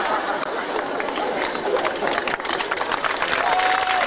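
Audience at an adult comedy show applauding children, a dense, steady wash of clapping and crowd noise throughout with chatter mixed in.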